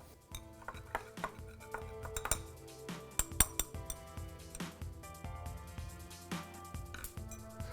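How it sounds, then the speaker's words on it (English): Quiet clinks and taps of a stirring rod against glassware holding ethanol and chloroform, an irregular series of small ringing knocks, close and soft. "This one, the ethanol. Give it a stir."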